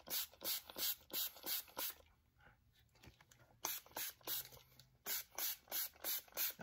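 Conditioner sprayed onto python snakeskin boots in quick, close, hissing bursts, a rapid run of squirts, a short quiet pause, then more bursts in the same steady rhythm.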